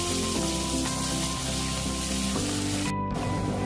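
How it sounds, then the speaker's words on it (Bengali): Chopped onions fry in hot oil with dried red chilli and bay leaf, a steady, close sizzle that hisses on without a break. "পেঁয়াজটা ভাজা ভাজা হয়ে গেছে"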